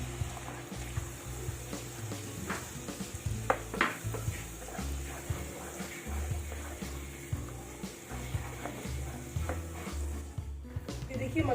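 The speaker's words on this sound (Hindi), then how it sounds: "देखिए कितना शानदार मसाला हमारा भून रहा है।" A masala of turmeric, chili, salt and onion, cashew and coconut paste fries in a pan over low heat, giving a steady close sizzle with a spoon scraping and stirring against the pan at a regular pace.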